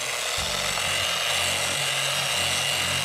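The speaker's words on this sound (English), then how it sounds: "we're going to pick a polisher up. In this case, we've got a nice nylon brush on the end" Polisher fitted with a nylon brush scrubbing mustard stains in a car interior, a steady close whirring hiss with a low motor hum that shifts pitch as the brush works the surface.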